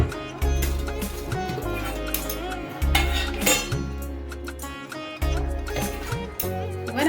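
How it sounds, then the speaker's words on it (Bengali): Metal bowl and cookware clatter in a kitchen as a bowl is set into a water-filled pan for steaming hilsa fish, a few sharp clinks and knocks separated by short pauses. "কড়াইতে জল দিয়ে দিয়েছি, একটা বাটি বসিয়ে দিয়েছি"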